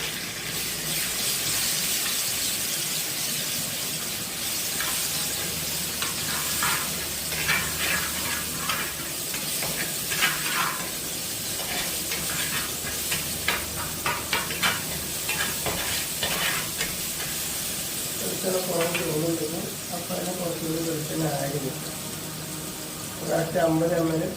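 Garlic paste for a fish curry fries in a pan with a steady sizzle, while repeated stirring scrapes come and go over it, close by, and a voice can be heard at times.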